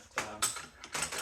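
A wrench tightens down a bolt on a gear puller tool during BMW R69S motorcycle engine disassembly, giving three quick, close ratcheting bursts in little more than a second.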